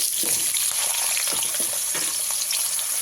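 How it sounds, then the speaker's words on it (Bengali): Cut potatoes fry in hot oil in a pan, a loud, continuous close sizzle with small crackles throughout. "ওই একই তেলের মধ্যে আপনাদের কেটে রাখা আলুটা ভেজে নিতে হবে তার জন্য আলুটা আমি দিয়ে দিলাম"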